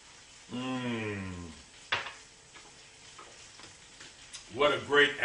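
King crab legs sauteing with bourbon and butter in a pan give a steady close sizzle, joined by a few clinking stirs and a spoken voice over the frying.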